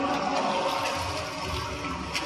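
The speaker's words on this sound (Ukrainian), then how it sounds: "Опускаємо його в воду" A diver's scuba regulator is lowered into water during diving training at a maritime academy, a loud, continuous rushing and gurgling of water and bubbling air, close and steady throughout with no talk.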